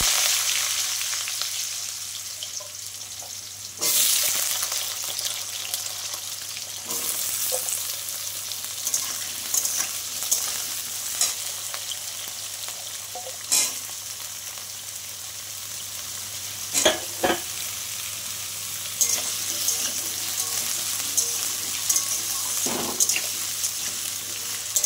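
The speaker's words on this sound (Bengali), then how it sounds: "আলুগুলো আমি একটু ভালো করে ভেজে নেব।" Potatoes frying in a pan after tempering for a vegetarian curry, a continuous crackling sizzle punctuated by repeated scraping and clinking strokes as they are stirred, close and fairly loud with no talk.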